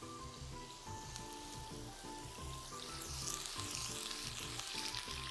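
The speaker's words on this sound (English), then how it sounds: "You guys are gonna get to hear a lot of sizzling." Beef sizzles and spatters in a hot pan, a dense crackling hiss heard up close alongside rhythmic lower clatter, with no talking.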